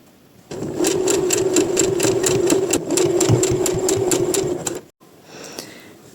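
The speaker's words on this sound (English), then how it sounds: "After I have sewed my bias tape on the neckline here, I fold it twice, and I'm sewing." A sewing machine runs steadily and close, stitching folded bias tape along a blouse neckline in a fast, even mechanical chatter for several seconds, then stops abruptly before a soft, quieter handling noise.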